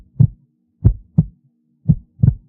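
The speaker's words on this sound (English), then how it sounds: "I could hear his heartbeat." A slow, strong, calm heartbeat heard close up, five low soft thumps arriving in uneven pairs with quiet gaps between them and nothing else audible.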